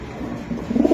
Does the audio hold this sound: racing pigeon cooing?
yes